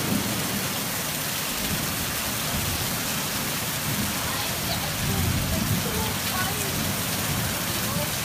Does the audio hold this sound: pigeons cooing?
no